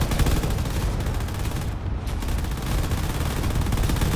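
Battleship gunfire pounding fortress turrets in a video game, a dense, continuous roar of rapid shots and booms with no pauses.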